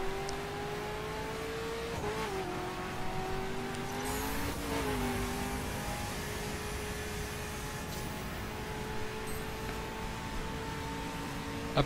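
A BMW M5 in the racing game The Crew revs hard with wheels spinning through the lower gears, a steady loud engine drone with rising pitch and brief shifts, alone without voices.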